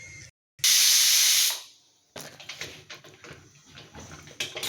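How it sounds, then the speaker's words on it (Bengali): Steam hisses loudly from a pressure cooker on a gas stove while aloo chole and matar curry cooks, a strong sustained burst that fades out, followed by quieter kitchen clatter and rustling. "এবার এখানে আরও 5টার মতো সিটি দিতে হবে আপনাকে কুকারে।"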